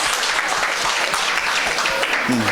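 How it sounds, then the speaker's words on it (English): Audience at a mental health seminar applauding the speaker's wife, daughter, sister and niece, a full, steady wash of clapping that continues to the end, with a brief voice near the close. "My wife, my daughter, my sister, my niece. Give them a round of applause."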